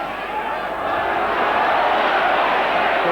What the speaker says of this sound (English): Applause from the crowd, both United and Luton fans